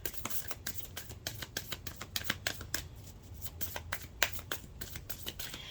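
A Moonology oracle card deck is shuffled by hand, producing a quick run of crisp riffling flicks and taps, steady and close, alone without talk.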